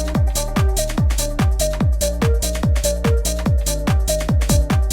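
A gritty synth melody distorted with the Thermal plugin rides over a punchy electronic beat with pounding kick drums and sharp hi-hats in a fast, steady rhythm.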